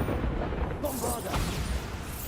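A Bombarda blast spell goes off in Hogwarts Legacy with a deep booming explosion and rumbling burst, full and loud throughout the moment.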